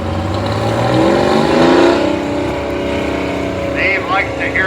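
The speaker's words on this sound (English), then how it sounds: "this has that Detroit engine in there, as you can hear" A Detroit diesel engine in a 1949 Model FD tractor runs at a show, a loud steady drone with rising and falling revs as the machine passes, with people talking over it.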